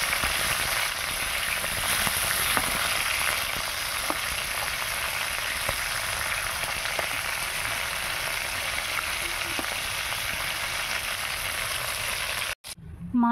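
Ban fish (eel) fries on its second side in oil in a wok, a dense steady sizzle and crackle with faint light taps, ending in a short cut-off.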